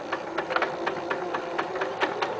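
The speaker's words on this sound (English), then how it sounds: "Stitch from this pin. We're going to back stitch." A domestic sewing machine back stitches fabric for a locker caddy, a steady mechanical whir punctuated by a fast, regular run of needle clicks, close and continuous with no talking.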